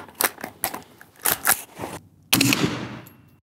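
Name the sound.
gunshots firing frangible rifle rounds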